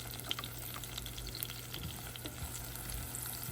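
Zucchini frying in a pan for a cheap homemade pasta meal, a steady soft sizzle with a low hum underneath, close and continuous with no talking.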